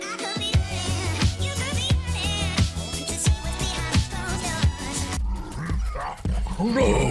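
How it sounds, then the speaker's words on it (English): A dog barks and yips in several quick, fairly loud bursts with whimpering tones, close by, over a musical backdrop that cuts to a quieter section near the end. "Dog."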